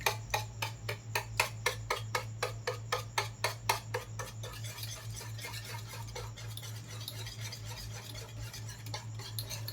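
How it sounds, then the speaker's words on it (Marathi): A whisk beats a no-bake mango pudding mixture in a bowl, tapping out a quick, steady run of clinks that fades into softer stirring, over a low constant hum. "मिक्स करायचे आहे म्हणजे फेटून घ्यायचे आहे"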